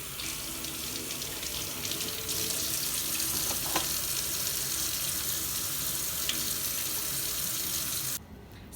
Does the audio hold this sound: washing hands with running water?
yes